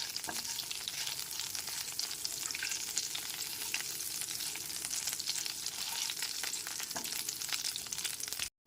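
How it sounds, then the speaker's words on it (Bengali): Black cumin seeds and dried red chillies fry in oil over a very low gas flame, a steady soft crackling sizzle with faint stirring, close and uninterrupted, cutting off at the end. "কালো জিরে শুকনো লঙ্কাটা গ্যাসের ফ্লেমটা একদম লোতে রেখে হালকা করে ভেজে নিচ্ছি"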